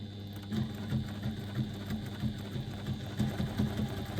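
A sewing machine runs in steady bursts as it stitches a seam on a press bag, pausing to backstitch before going forward again, with a close mechanical whir and rhythmic needle chatter.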